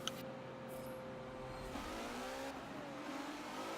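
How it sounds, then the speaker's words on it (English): A Jaguar E-Type coupe in Forza Motorsport 7, lapping Watkins Glen, its engine droning steadily with rising and falling revs under faint tire noise, no talk. "So here I am, I'm on Watkins Glen in a Jag E-Type."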